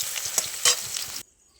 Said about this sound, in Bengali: এবার এই তেলের মধ্যে আলুগুলো ভেজে নেব